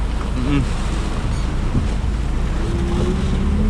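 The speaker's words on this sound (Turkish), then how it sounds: "Rüzgar, aşırı bir rüzgar." Strong wind roars and buffets against the microphone in a constant low rumble after a hailstorm, with faint mechanical whines underneath.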